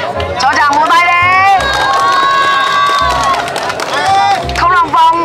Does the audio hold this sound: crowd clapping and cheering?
yes